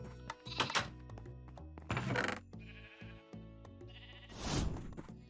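Sheep bleating in the Minecraft Nomifactory modpack, several clear synthetic bleats at irregular intervals, close and fairly loud over faint game ambience, without speech.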